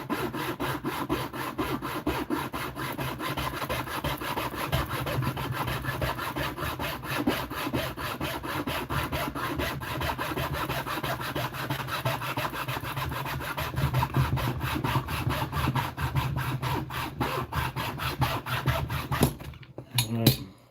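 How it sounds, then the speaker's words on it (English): A small hacksaw saws through wood in a steady, continuous run of back-and-forth rasping strokes, close and loud for about twenty seconds. It stops abruptly near the end with a few final scrapes. "That was a nicer cut. I think I'm getting better with that little hacksaw."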